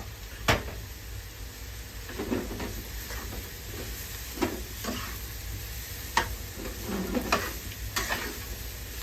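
Thai egg fried rice being stir-fried in a pan: a steady sizzle with repeated sharp scrapes and clanks of a spatula against the pan at irregular intervals, close and without talk.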